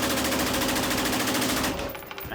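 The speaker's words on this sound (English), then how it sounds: "You ever shoot a fully automatic?" A fully automatic machine gun fires one long, loud, rapid burst of evenly spaced shots lasting well over a second, then cuts off, leaving a short ringing echo.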